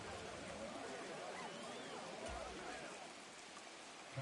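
Steady rain hisses evenly throughout a Madden football video game broadcast, a soft, constant wash with a faint thump near the end.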